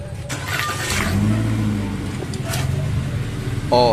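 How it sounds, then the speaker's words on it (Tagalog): A Toyota Rush engine cranks and fires during brake work, then settles into a steady idle that carries on loudly and close by for the rest of the moment. "Pa-start ko na itong makina"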